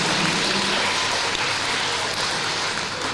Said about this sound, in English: Let's give a warm welcome or warm round of applause to